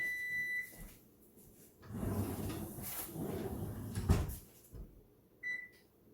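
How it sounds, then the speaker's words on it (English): An oven door opening to take out baked protein-sparing hot dog buns, clunks and a metallic thud of the door and rack between beeps, close and moderately loud, with no talk. "I'm going to pull them out of the oven"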